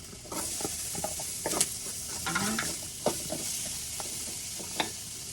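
Garlic and onion sizzle and crackle in a hot pan, with scattered pops and the scrape of stirring throughout.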